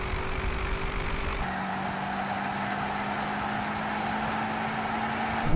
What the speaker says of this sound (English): Here comes the BMW now